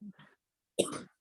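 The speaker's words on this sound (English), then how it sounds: "We can take the case of the person who is coughing now" An audience member at a veterinary lecture clears the throat and then coughs once, a short, muffled rasp followed by a sharper cough that is fairly close, with no talking.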